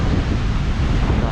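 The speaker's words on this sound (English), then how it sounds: "it's a little bit windy today" Strong wind buffets the microphone in a Florida boatyard, a continuous dense roar with steady low rumble and no clear gaps.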